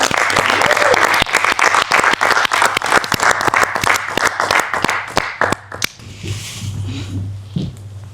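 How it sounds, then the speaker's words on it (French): An audience at a stage hypnosis show claps loudly with sharp, rapid individual claps, then the applause cuts off and leaves a quieter room with a low hum and faint voices. "Et on peut l'applaudir."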